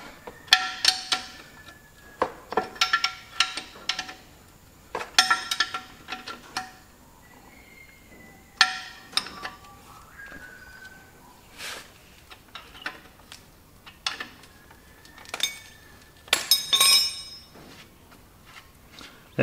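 Half-inch sump bolts being undone with a spanner on a Ferguson TEA20 tractor, a series of sharp metallic clicks and ticks in irregular bursts, close and fairly faint, with no talk.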